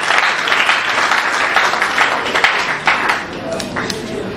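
A crowd applauds continuously at a ceremony as names are called, a broad patter of many hands with some voices mixed in, sustained throughout at a lively level.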